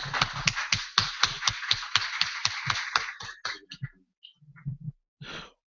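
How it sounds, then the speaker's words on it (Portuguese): A small group in a meeting gives a brief round of applause, roughly a dozen crisp claps in quick rhythm that thin out into a few scattered claps and soft murmurs. "E uma salva de palmas para os dois aí, né?"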